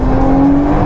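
A Toyota Supra Mk5 race car engine accelerates, a loud close droning tone rising steadily in pitch over a brief moment.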